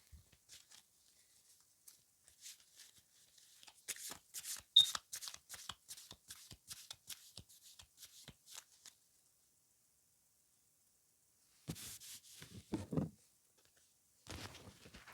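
A tarot deck shuffled softly near the microphone, with bursts of card riffling and papery rustles separated by a long silent gap. Quiet, with no voices.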